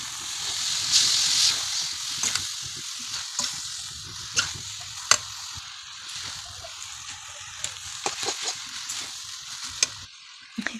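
Onion, spices and instant noodles fry in a pan with a constant soft sizzle and hiss, broken by scraping stirs and clicks of a utensil against the pan.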